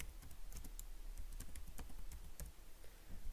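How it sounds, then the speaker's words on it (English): Quiet, rapid typing on a computer keyboard while entering a company name into an Excel spreadsheet, with irregular soft key clicks continuing steadily without speech. "now first we will type the company name here"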